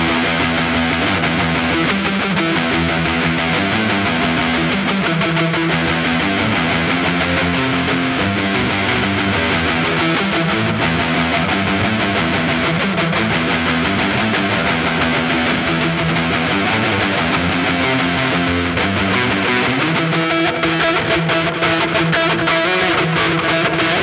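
A Fender Jazzmaster electric guitar plays through its neck pickup with a gain boost and a volume boost, the guitar's volume fully up. It sounds as a loud, sustained, driven tone with shifting notes and no talking.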